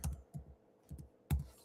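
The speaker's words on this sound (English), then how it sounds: "I'm typing in the wrong search bar." Fingers type on a computer keyboard in a few short, quiet bursts of clicking keystrokes separated by brief pauses, close by and with no talking.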